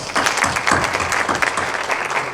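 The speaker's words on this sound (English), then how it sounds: "Let's give them a round of applause." Audience applause fills a hall at a school safety summit for Granville County Public Schools, a steady dense clapping that holds at full volume for the whole stretch.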